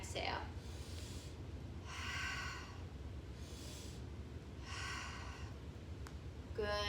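Slow, deep breaths during a seated chair boxing workout, with several audible exhales rising and fading in a regular rhythm, fairly faint and close, and a short bit of speech at the very end.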